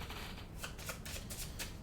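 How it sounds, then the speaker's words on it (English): A deck of tarot cards is shuffled by hand on a tabletop, giving a quiet, close run of rapid riffling bursts repeating in a steady rhythm for about two seconds, with no talking. "Give these a nice shuffle."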